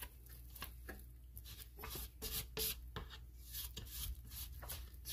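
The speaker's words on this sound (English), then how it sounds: "scrape this all down" A utensil scrapes bread dough mixture down the sides of a mixing bowl, giving soft, repeated rasping strokes close by and fairly quiet, with no talking.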